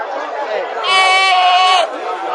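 Goat bleating loudly at a crowded goat market in Multan, a single sustained, quavering bleat rising over steady crowd chatter and nearby talk.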